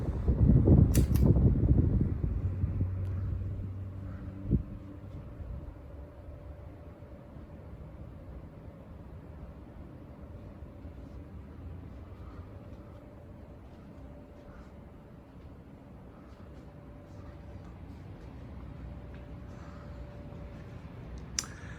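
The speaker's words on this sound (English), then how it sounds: "we're going to shut it off and do the spin down now" A polished brass Casablanca Delta I three-speed ceiling fan is switched off and spins down, a soft steady low hum and faint whir after a brief louder thump at the start, gradually easing over a quiet room background.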